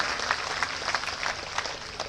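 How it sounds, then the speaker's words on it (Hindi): An audience at a Rewa party workers' rally claps to welcome a guest, giving a brief, steady burst of dense applause with no talk over it. "जोरदार ताली बजा के एक बार स्वागत"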